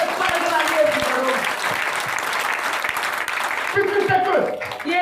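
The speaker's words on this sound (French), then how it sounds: "Acclamez devant Jésus-Christ." Congregation at an evangelical church service clapping and cheering for Jesus Christ, a dense, steady wash of applause with shouts and voices mixed in, swelling again near the end.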